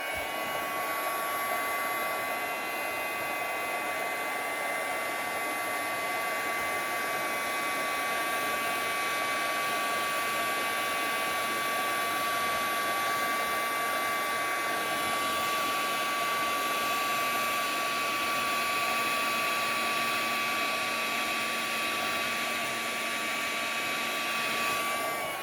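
A handheld heat tool blows steadily and loudly for the whole stretch while melting embossing powder until it turns shiny and glossy, its even whine unbroken and with no talking.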